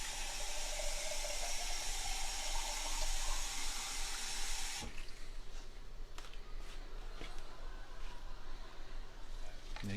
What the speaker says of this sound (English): I'm going to add just a little more water to that